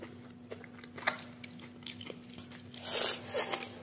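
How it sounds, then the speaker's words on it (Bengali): Crisp fuchka shells crack and crunch between the teeth, a few sharp bites followed by soft chewing, close and quiet with a brief louder rustle near the end. "ফুচকাটা এখন খাচ্ছি।"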